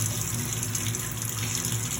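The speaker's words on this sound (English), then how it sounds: "I'm going to rinse my hand off for just a second" Faucet water runs steadily and close by as a hand is rinsed under it, a constant splashing gush with no talking.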